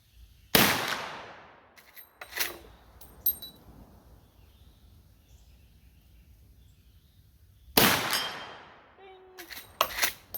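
Two loud, sharp shots from a Marlin 1895 SBL rifle aimed at a circular target outdoors, about seven seconds apart, each with a short echoing tail. Brief faint noises fall between them.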